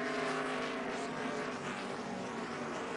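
A NASCAR Sprint Cup stock car races through the esses at Sonoma Raceway during the Save Mart 350, its engine giving a steady, loud, sustained roar under throttle with no pause.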